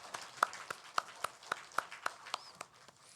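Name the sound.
congregation applause in church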